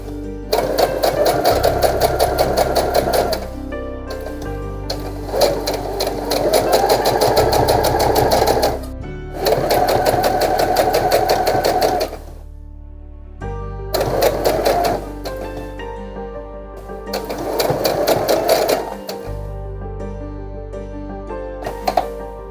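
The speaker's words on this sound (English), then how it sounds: "So we're going to take this back to the sewing machine and get the front of it finished up." A sewing machine stitching a strip onto a T-shirt quilt runs in several bursts of steady, rapid stitching, stopping and starting with short pauses between runs, loud and close.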